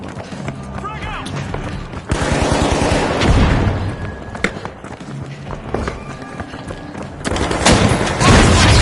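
A frag grenade goes off in the arena shooter The Finals as a loud, close broadband boom, with a second heavy blast later. Gunfire, running footsteps and talking voices fill the rest of the mix.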